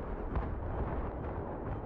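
Heavy explosion rumbling as a building is shot down in the video game Battlefield 3, a dense, sustained low roar with a sharper burst near the start, loud and close throughout.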